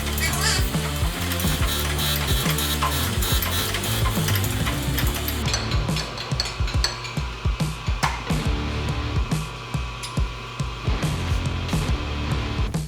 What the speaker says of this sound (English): I decided to go ahead and surface grind the pommel while I'm over here, and I have the surface grinder already going.